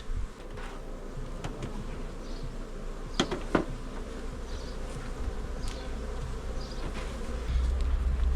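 A dense, continuous hum of honeybees fills an opened beehive, loud and close and steady throughout, with a few louder buzzes as single bees pass near.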